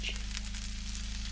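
A close, even sizzle of sausage frying in a pan in an off-grid cabin kitchen, brief and unbroken, with a sharper spit at the start.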